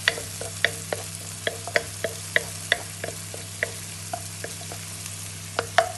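Garlic frying in a pan, a low steady sizzle punctuated by sharp, repeated clinks and scrapes of stirring at an even pace, no voices.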